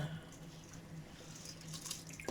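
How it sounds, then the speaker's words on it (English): Rice for Jamaican rice and peas is washed under a running tap, a faint steady stream of water with light splashing and sloshing over a brief moment, no speech. "So wash your rice"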